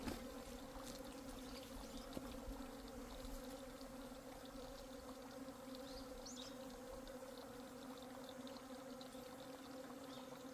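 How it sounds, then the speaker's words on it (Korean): Migratory hornets buzzing around a beekeeper's apiary: a steady, continuous insect drone with a few brief louder passes close by, heard alone without voices. "이동말벌 들어온 줄 아는데 그냥 놔둔 거예요."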